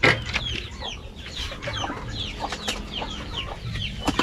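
Free-range chickens on a farm during intense heat, clucking and squawking in overlapping bursts, several birds calling near and farther off with no one speaking.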